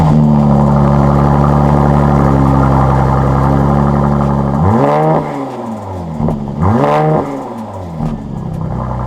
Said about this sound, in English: hold down the brake pedal and then press the start button